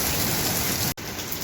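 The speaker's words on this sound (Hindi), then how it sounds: "बाहर देखे इतनी मूसलाधार बारिश शुरू हो गई" Heavy monsoon downpour pouring outside a home in Karachi during a thunderstorm, a dense steady hiss of rain that breaks off for an instant near the end and then resumes at full strength.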